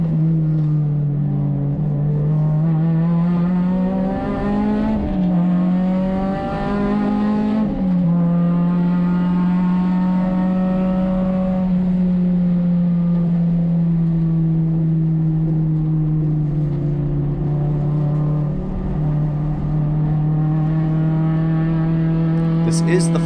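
A race car engine drones loud and continuous from inside the cockpit during a USTCC 2021 Round 3 race at Sonoma Raceway, its steady pitch dipping and climbing with shifts and throttle changes.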